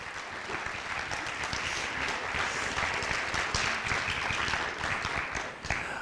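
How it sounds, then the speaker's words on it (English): An audience applauds at a high school National Honor Society induction ceremony, a full, even roar of many hands clapping that holds steady for the whole stretch. "is a good time to clap."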